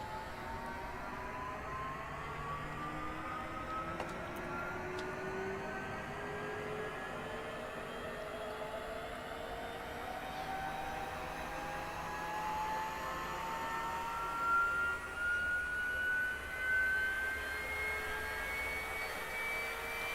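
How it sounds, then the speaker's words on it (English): Auxiliary power unit on a business jet spooling up: a steady whine that climbs gradually in pitch over about twenty seconds, heard close and alone. "You guys can hear the APU spooling up."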